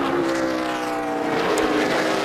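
NASCAR Nationwide Series race car on the road course at Watkins Glen, its engine droning loud and steady as it runs near the rev limiter, with no voices over it.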